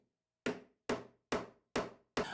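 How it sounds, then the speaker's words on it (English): A hammer drives bolts into MDF board with five sharp, evenly spaced blows, close and loud, with silence between strikes. "I will be able to hammer through the bolts and basically get them stuck inside of the MDF"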